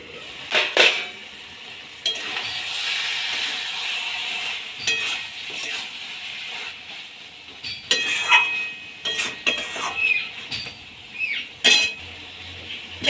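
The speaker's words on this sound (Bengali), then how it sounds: "10 মিনিট পর আমি এবার ঢাকাটা খুলে নেব।" Metal clinks and clatters of a pot lid and utensils ring out in bursts over a soft background sizzle as a pan of meat cooking in a kitchen is uncovered and stirred, with no voices.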